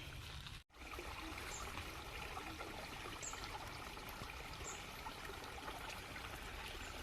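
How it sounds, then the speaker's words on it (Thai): Continuous broadband rush of a natural waterfall, water falling from high ground in a forest area, steady and loud throughout with no talking. "เสียงธรรมชาติเนาะเสียงน้ำน้ำตกครับ"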